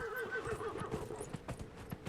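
A horse in the video game Dragon Age Inquisition whinnies with a rising and falling cry over steady clip-clopping hooves, quiet and close, with no talk.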